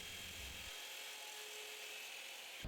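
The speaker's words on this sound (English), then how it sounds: "I used the miter saw to cut the plate to size" A miter saw cuts an acrylic or Lexan plate to size, giving a steady high-pitched whine with a hard cutting tone, loud and close, running alone for nearly the whole stretch.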